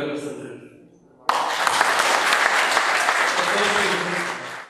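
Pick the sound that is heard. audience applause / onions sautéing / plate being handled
audience applause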